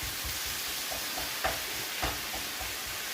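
Minced meat scraped and broken up with a flat spatula in a hot pan, a steady sizzle with soft irregular scraping strokes and a couple of sharper clicks of spatula on metal, close and alone.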